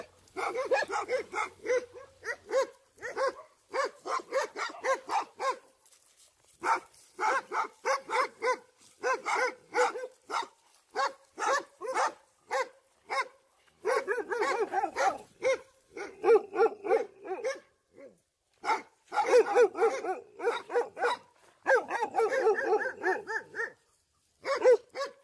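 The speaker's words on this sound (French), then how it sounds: "je suis pris à partie par 7 chiens qui m'indiquent le chemin à suivre" A pack of seven dogs bark at a walker on a long countryside pilgrimage stage near Montefiascone. Loud, overlapping bursts of barking and yips repeat again and again with short pauses between volleys, and nobody speaks.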